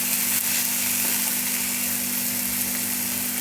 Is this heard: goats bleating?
no